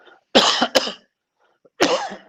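Two bursts of harsh coughing, close up: a quick double cough, a pause, then another rough cough near the end.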